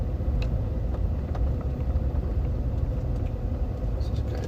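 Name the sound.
car driving around a parking lot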